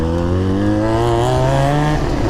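Loud, close revving from a Benelli TNT 300 motorcycle with an Akrapovic exhaust, a sustained throaty engine note that rises steadily, then drops off near the end.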